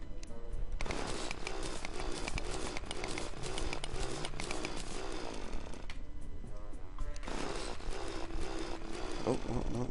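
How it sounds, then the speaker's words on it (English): A chainsaw in the video game Terraria roars continuously and loudly, with a harsh buzzing texture and repeated surges, over game sounds with no gaps throughout. "It's a chainsaw."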